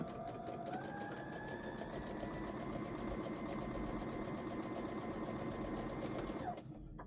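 A sewing machine stitches a quilt block along a marked line in one continuous run of rapid, even stitching close by, slowing and stopping at the end.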